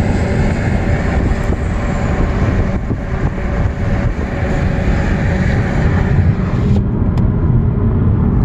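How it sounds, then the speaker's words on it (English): Military trucks driving past on a road en route to an airport, a loud continuous rumble of heavy engines and tyres heard close by from inside a moving vehicle, steady throughout with no talk. "And there's some military trucks."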